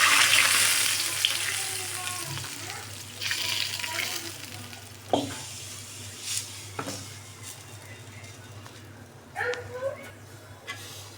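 Dried chili tempering sizzles and fries in hot oil for dal, a steady crackling hiss fading gradually, with occasional stirring clinks and handling sounds nearby.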